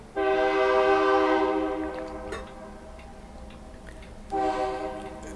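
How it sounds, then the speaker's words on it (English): A train sounds its horn in two long, steady blasts separated by a pause, the first rising and then fading, the second returning near the end, moderately loud from a short distance over a low background rumble. "I don't know if you guys can hear the train or not."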